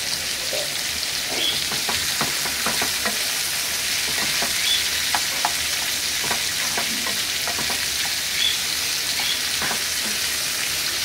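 Onions fry in a little oil over a high gas flame, a continuous crackling sizzle with frequent scraping stirs of a spoon in the pan, close and steady with no talking.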